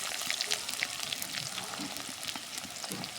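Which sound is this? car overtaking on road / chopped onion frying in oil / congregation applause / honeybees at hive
chopped onion frying in oil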